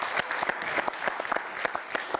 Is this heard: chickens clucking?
no